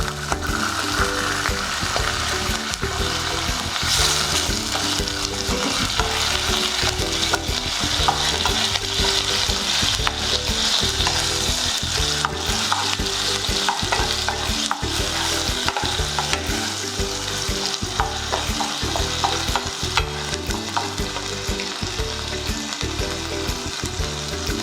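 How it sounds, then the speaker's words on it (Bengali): Paneer mixture with sour yogurt frying in a pan while being stirred, a steady close sizzle with rhythmic scraping and clacking of the spoon throughout, no voices. "এবার এটা কিছুক্ষণ হালকা ভাজতে হবে"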